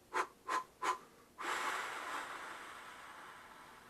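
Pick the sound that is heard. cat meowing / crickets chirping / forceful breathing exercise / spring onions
forceful breathing exercise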